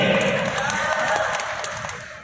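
A crowd at a Mardi Gras night comedy show in Quezon City applauds and cheers for the city's mayor, with dense, steady clapping and shouts throughout.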